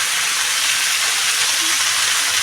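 Mixed pasta fries in a pan while being stirred, giving a loud, dense, continuous hissing sizzle close up with no pauses.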